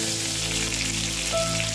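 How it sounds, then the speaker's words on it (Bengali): Cauliflower florets frying in oil, browning until reddish, with a steady dense sizzle throughout the short stretch, close and even, plus a faint thin tone entering near the end; no talking. "ফুলকপিগুলো একটু লাল লাল করে ভাজব"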